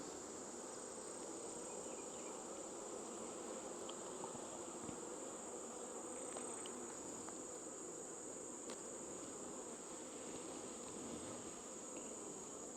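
Honeybees at a farm hive make a dense, steady buzzing drone that holds unbroken throughout, close and even, with a faint high ringing tone above it and no voices.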